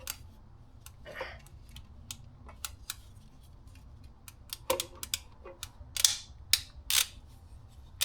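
A plastic tab is pulled on the stock fuel pump hanger of a 2018 Subaru WRX STI during a Walbro 525 pump install, with faint scattered clicks, scrapes and a few sharper plastic snaps close by.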